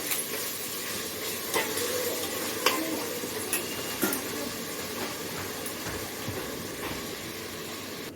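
Tomatoes sautéing in a pan for a mushroom biryani, giving a steady, moderately loud sizzle with occasional sharp clicks of stirring, heard alone without talk.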